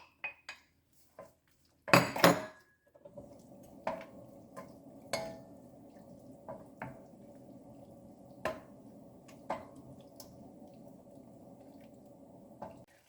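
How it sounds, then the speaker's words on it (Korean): Beef stir-fried in a pot with water and salt, a soft steady sizzle under scattered clinks and scrapes of a utensil against the metal, quiet and close. "소고기를 넣어서 볶습니다."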